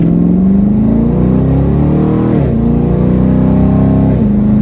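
A Chevy SS engine fitted with a Roto-Fab cold air intake revs hard at full throttle, a loud, close, rising drone with a brief dip at each gear change.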